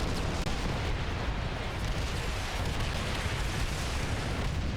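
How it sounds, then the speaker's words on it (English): Dense, continuous battle noise from Call of Duty: World at War, with explosions and gunfire blending into a steady loud rumble of chaotic combat and no clear gaps. "seeing massive explosions and seeing everyone fighting and blood in the water, and seeing gunfire shots from every direction"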